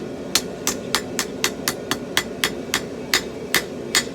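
Hammer blows forging a knife blade, about a dozen sharp metallic strikes in a steady rhythm of roughly three per second, loud and close over a low background hum.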